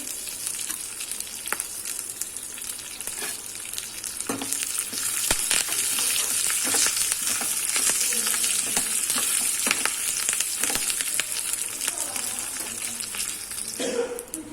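Curry leaves crackle in a hot tempering for tomato chutney, a dense close sizzle with sharp pops that grows louder after a few seconds and holds steady.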